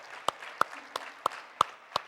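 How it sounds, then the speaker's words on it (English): Sharp hand claps sound at an even, measured pace, six crisp slaps about a third of a second apart, close and dry, applause from a church audience for its youth group. "Can we just give them all a round of applause?"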